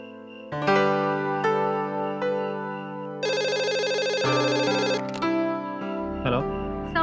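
A telephone rings out on an outgoing call to a boss, a steady repeating ring tone with a brighter trill partway through, loud and clear with no one talking over it.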